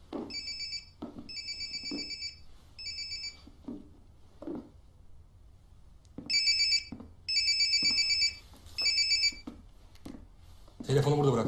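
A mobile phone left behind in a house rings in bursts of bright electronic trilling, with several repeated rings separated by short gaps, while thuds and quiet voices come and go in between.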